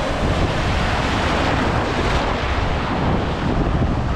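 Ocean surf at a beach in Arraial do Cabo, Rio de Janeiro, a steady loud wash of breaking waves mixed with heavy wind buffeting the microphone, continuous with no clear individual wave breaks.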